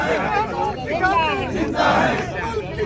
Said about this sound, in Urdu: یہ آپ دیکھ سکتے ہیں بالکل سپریم کورٹ کے سامنے وکلا کھڑے ہو کر نعرے لگا رہے ہیں